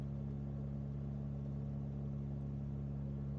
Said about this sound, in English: throttle back, nice and quiet, not disturbing any neighbours, and getting ready to turn onto final now